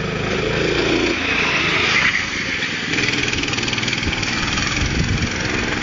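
A small school go-kart engine with a slipping clutch runs steadily nearby in a school playground, its buzzing drone holding an even, uninterrupted pitch throughout.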